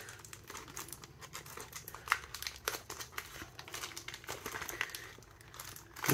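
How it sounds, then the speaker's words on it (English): Crinkly tearing and crumpling of a sealed plastic wrap as it is cut on a Magic: The Gathering Commander Masters collector box, with irregular close scratchy bursts and soft knocks. "I thought I, like, cut into the box for a second."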